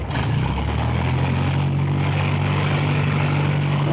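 A propeller plane in the 1937 film serial Dick Tracy drones loudly and steadily overhead, its engine hum constant throughout with no voices.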